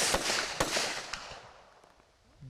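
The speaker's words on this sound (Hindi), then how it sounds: "बेहद तेज गति से फायरिंग करते हुए, निशाना लगाते हुए BSF के कमांडो।" Rapid bursts of fire from Italian-made Beretta rifles shot by BSF commandos at a border range, a few sharp loud cracks early that fade into a quieter decaying tail.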